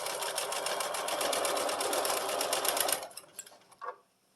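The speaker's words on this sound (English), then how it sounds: "I am now going to sew my diagonal seam" A sewing machine stitches a diagonal seam across quilt binding for a mini quilted wall hanging, running in a steady, fast, close whir for about three seconds, then stopping with a few light clicks and handling noises.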